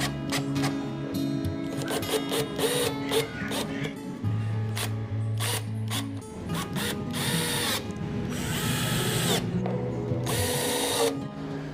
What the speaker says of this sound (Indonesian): kencangkan 8 buah skrup box dengan obeng bermata plus